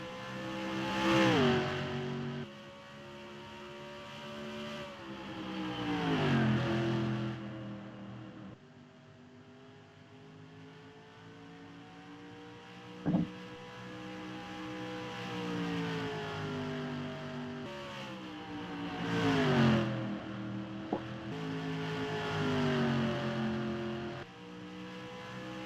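Toyota race cars accelerate past one after another, engines rising and falling in pitch as each sweeps by, loud surges around the start, middle and end over a steady background of distant engine drone.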